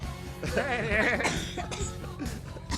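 A person coughs amid lively talk on a live radio stream, the cough brief and close, mixed with voices and what sounds like laughter.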